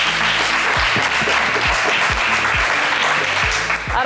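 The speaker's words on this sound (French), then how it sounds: "David, on vous applaudit très fort." Studio audience applauding a contestant named David on a French TV game show, sustained dense clapping filling the room, loud and steady with a beat of music underneath, no talk.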